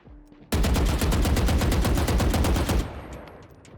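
Rapid automatic gunfire from a Valorant practice range, a loud sustained burst of evenly spaced shots lasting about two seconds, followed by a fading ringing tail.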